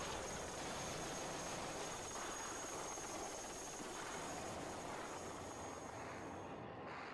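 Helicopters roar during a wartime evacuation as a steady, dense rotor and engine wash with constant hiss, heard from a distance in old archival footage, with no voices.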